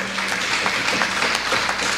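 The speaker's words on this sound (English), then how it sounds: "So give yourselves a round of applause" Crowd applause at an outdoor political campaign rally in Rousillac, La Brea, a steady wash of many hands clapping throughout, moderately loud with no speech over it.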